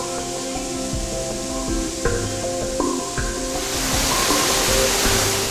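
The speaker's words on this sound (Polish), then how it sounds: "Potok Kamieńczyk spada tu trzema kaskadami z wysokości 27 metrów do głębokiego kotła." A steady roar of Kamieńczyk Waterfall, a stream dropping 27 metres in three cascades into a deep pool, rises and thickens in the second half, with faint musical tones running underneath.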